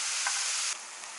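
Mushrooms fry in butter in a pan, a loud, steady close-up sizzle that drops slightly in level partway through, with no voices.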